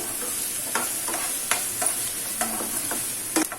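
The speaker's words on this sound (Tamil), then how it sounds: "எண்ணெய் சூடாகவும் ஒரு கப் வெங்காயம், வெங்காயம் நல்லா கோல்டன் ப்ரௌன் வர்ற அளவுக்கு வதக்கணும்." Chopped onions sizzle steadily in hot oil in a pan while being stirred for egg kothu parotta, with a constant frying hiss and a few sharp clinks of a spatula against the pan.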